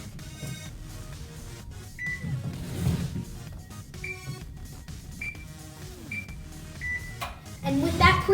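An oven sounds a series of short, clear electronic beeps, spaced a second or so apart, while it preheats to 350 degrees Fahrenheit, heard under kitchen background noise.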